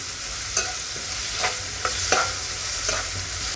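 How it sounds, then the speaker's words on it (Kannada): Vegetables are stir-fried in a pan: a steady close sizzle broken by several sharp spatula scrapes and stirs at irregular intervals, with no talking. "ಇವಾಗ ತರಕಾರಿ ಅರ್ಧ ಭಾಗ ಬೇಯಬೇಕು, ಅಲ್ಲಿವರೆಗೂ ಫ್ರೈ ಮಾಡ್ಕೊತೀನಿ."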